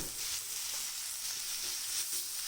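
Taro greens frying in a hot pan for a vegetarian dish with sesame, chickpeas, peanuts and coconut: a steady, close hiss of sizzling oil with faint stirring scrapes, no voices.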